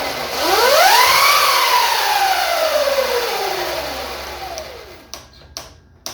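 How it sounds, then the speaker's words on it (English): A Sur-ron electric dirt bike revs at wide open throttle, its motor whine climbing sharply and then sliding down as power is killed by a pulled safety lanyard, followed by a few sharp clicks near the end. "I'm going to go ahead and just wide open the throttle"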